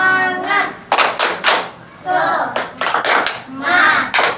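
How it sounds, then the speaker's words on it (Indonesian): A classroom group claps out a rhythmic spirit chant, tepuk semangat, with bursts of sharp hand claps in patterned groups alternating with chanted voices, loud and close. "Yuk kita tepuk semangat dulu yuk"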